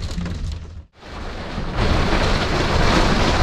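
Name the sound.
hail storm at a lake campsite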